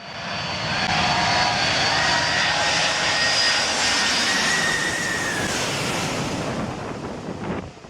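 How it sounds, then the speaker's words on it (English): A loud, sustained roar of a jet airplane engine overhead during a low pass, blended with wind buffeting and the wash of surf throughout. "Everyone was excited to see the plane take off"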